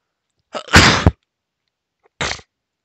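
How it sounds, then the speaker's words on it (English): A single person's sneeze, a sharp breathy burst with a short inhale just before it, followed after a pause by a brief softer exhale or sniff, recorded close in a quiet room. "sorry, I need to sneeze."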